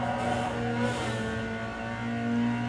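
Race cars in Need for Speed Underground 2 roar past, including an RX-8, with sustained engine whine and shifting revs over a steady in-game backdrop.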